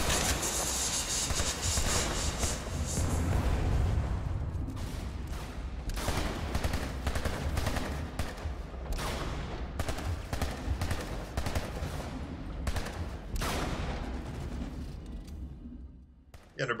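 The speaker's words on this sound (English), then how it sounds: "here's an underbarrel smoke grenade fired from a Gauss Compact S on ultra settings" A Gauss Compact S fires an underbarrel smoke grenade in Planetside 2 on ultra graphics settings, with a steady hiss of smoke amid repeated sharp gunfire bursts and battlefield rumble that continue throughout.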